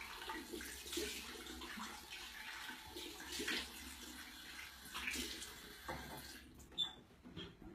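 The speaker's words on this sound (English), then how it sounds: "just wash that off, just rinse" Water runs quietly from a tap and splashes while cleanser is rinsed off a face at a sink, a soft continuous flow with uneven splashes and a small clink near the end.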